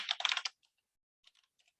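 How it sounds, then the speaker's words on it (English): A computer keyboard being typed on: a quick, dense burst of keystrokes, then a few sparse, faint taps after a pause, close by with no voices. "let's start with typing."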